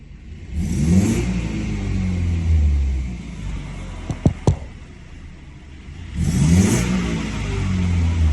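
A BMW F30 with a B48 engine and an FTP small intake pipe hums and swells as it accelerates while driving, with a couple of sharp clicks midway, the intake rumble rising again toward the end.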